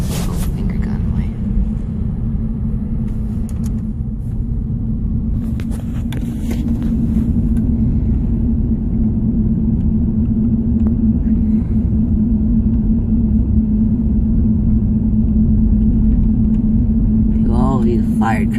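A fire truck rumbles past on a windy street, a steady deep engine drone holding loud and close for the whole stretch, with a speaking voice over it near the end.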